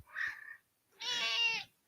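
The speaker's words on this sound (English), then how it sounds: "Cat noises in the background for you guys." A pet cat lets out two meows indoors, a short chirpy one and then a longer, more drawn-out call, fairly faint and close with nothing else around.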